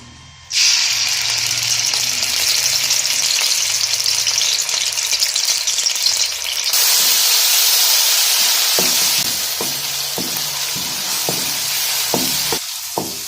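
Onions dropped into hot oil in a kadhai burst into a loud, continuous sizzle that holds steady, then eases into softer frying crackle broken by scraping stirs and clatter.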